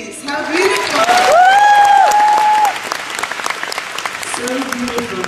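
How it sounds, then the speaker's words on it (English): A concert crowd in Korea breaks into loud, dense applause with whoops and cheers, swelling and then easing into lighter scattered clapping, with a voice calling out over it. "we have a round of applause for Jane, please?"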